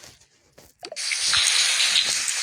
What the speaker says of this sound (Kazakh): Кел, душқа түсеміз